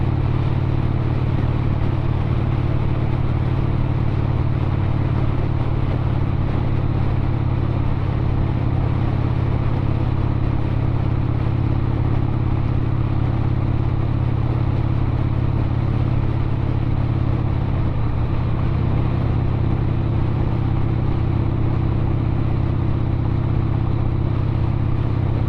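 A 1997 Harley-Davidson XLHS Sportster being ridden, its engine a loud, steady low rumble with wind noise, running continuously throughout with a slight shift in pitch partway through and no talk.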